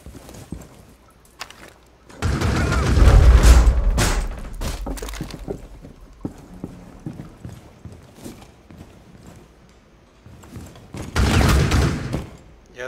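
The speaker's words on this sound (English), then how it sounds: "Yeah, that's Blackbeard shooting at you, man." Blackbeard's gunfire in a Rainbow Six Siege team deathmatch on the Park map, loud bursts of rapid shots in two clusters separated by quieter stretches of scattered clicks and footsteps, with no talk.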